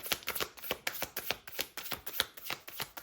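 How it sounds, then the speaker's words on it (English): Tarot cards being shuffled by hand give a quick series of crisp riffling snaps and soft slaps, roughly a dozen in an irregular rhythm, close and quiet with no voices. "I keep forgetting to shuffle the cards closer"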